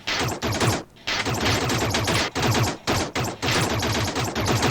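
Rapid gunfire in the Another World game, bursts of repeated shots in steady volleys separated by brief pauses where a shield goes up, loud and close with no voices.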